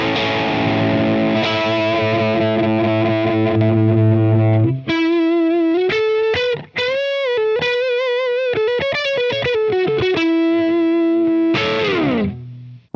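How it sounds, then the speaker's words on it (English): Electric guitar run through a Jackson Audio Fuzz pedal on its modern fuzz circuit: a thick sustained fuzzy chord first, then a buzzing single-note lead line with bends and quick phrases, loud and close with no talk. "Up next is the Jackson Audio Fuzz"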